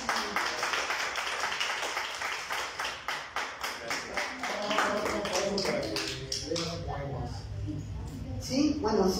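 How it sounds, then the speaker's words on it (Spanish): Audience members in a class applaud in a rapid run of crisp claps that thins out into scattered taps, followed by a person speaking over light background murmur. "Pues yo pido un aplauso aquí para la clase."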